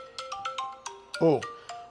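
A phone ringtone plays during a live broadcast: a short, bright electronic melody of repeating notes, fairly close and clear, with a brief voice-like warble in the middle.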